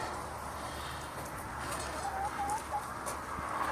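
Chickens cluck softly around their coop, a few brief calls rising over a steady low rustling background, moderately close and fairly quiet.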